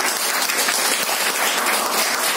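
Audience applause at a special programme on International Women's Day, steady continuous clapping from a crowd, filling the whole short stretch with no talk.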